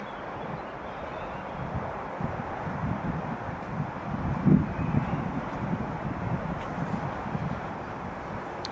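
Breezy wind blows outdoors near bluebell woods, a steady broad rush with low buffeting against the microphone and a brief stronger gust midway.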